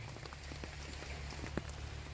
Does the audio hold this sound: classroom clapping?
no